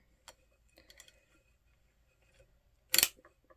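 A sock knitting machine gives sparse, quiet mechanical clicks and ticks, then one sharp louder clack about three seconds in, followed by a faint final tick.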